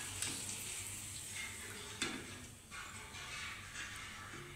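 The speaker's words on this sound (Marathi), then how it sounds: "अशा सर्व पुऱ्या तळून घ्यायच्या आहेत।" Spinach puri deep-frying in hot oil gives a soft, steady sizzle with a few brief clinks and stirring noises, faint and close, with no talk.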